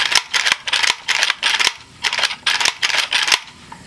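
Bolt of a Yugoslav Zastava M70 rifle cycling back and forth, a run of dry metallic clacks in quick bursts, close and loud with short pauses between groups.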